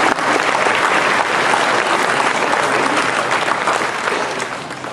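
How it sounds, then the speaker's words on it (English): Audience applause at a sixth-grade graduation, a dense, sustained clapping from a crowd that holds steady for several seconds and then begins to fade. "So please give yourself a round of applause."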